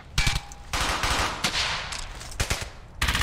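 Machine gun fire from MG teams in the World War II shooter Brothers in Arms: Hell's Highway, with loud, sharp bursts of rapid automatic shots and brief gaps between volleys, close and unaccompanied by talk.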